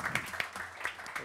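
Audience applause during a live Swedish talk-show livestream, a short scattered round of clapping from a small group, fairly faint and irregular, with voices briefly heard alongside.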